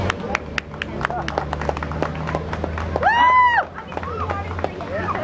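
Scattered hand claps from a small audience at a spring festival show, sparse and uneven over ongoing crowd noise, with a brief whistling tone partway through.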